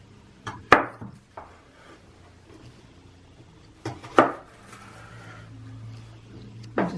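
A knife chops celery on a cutting board in a home kitchen, a few sharp, well-spaced thuds with quiet gaps between them.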